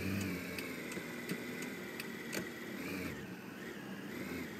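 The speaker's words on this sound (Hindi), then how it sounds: "बहुत ट्रैफिक है आज सिटी रश में भाई।" Steady city traffic hum around a taxi in a Barcelona driving video game, a continuous engine drone with faint periodic clicks and ticks, mid-level and unbroken with no talking.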